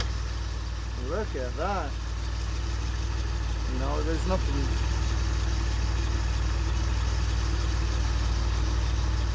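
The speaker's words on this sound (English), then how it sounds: "It looks awful, it sounds awful, and it's got no power, so you couldn't have picked a worse engine." A DeLorean engine idling, a steady low drone held throughout at constant level, with someone talking briefly over it.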